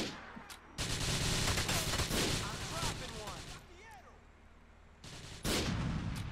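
Gunfire in Grand Theft Auto IV, with loud rapid bursts of shots filling a few seconds, then a pause and a fresh burst near the end, mixed with voices and game sound.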